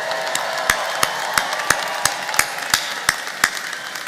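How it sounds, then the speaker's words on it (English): At a graduate college commencement, the crowd gives the graduates a round of applause, a steady wash of clapping across a large room with sharp, evenly spaced claps standing out above it. "Let's give them one more round of applause"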